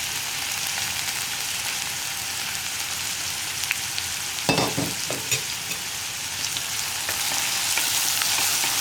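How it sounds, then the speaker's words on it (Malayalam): Horse gram with curry leaves being stirred in a pan gives a steady frying hiss, broken midway by a few brief scraping stirs of the spoon, close and fairly quiet. "ഇതൊന്ന് നന്നായിട്ട് ഇളക്കി കൊടുക്കുക"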